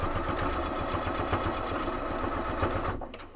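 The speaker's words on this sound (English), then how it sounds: "Go ahead and back stitch" A sewing machine back stitches to reinforce the corner of a backpack pocket, a steady rapid needle chatter running close and continuous for about three seconds before trailing off.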